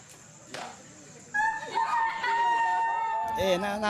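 A voice mimics a chick's peeping with a string of high, thin, wavering tweets after a short breathy lead-in, loud and close.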